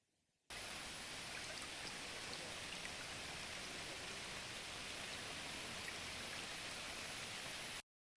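Heavy monsoon rain pours steadily during flooding around a roadside house, a dense, even hiss of drops on water and surfaces that starts abruptly and holds constant for about seven seconds before cutting off.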